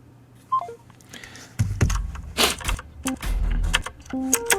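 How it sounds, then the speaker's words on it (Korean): Telephone keypad tones in Minecraft, a few short dialing beeps scattered among clicks and bumps, with a brief bright tone sequence near the end. "현장에 나가 있는 라더 테마사에게 전화 연결 한번 해보도록 하겠습니다"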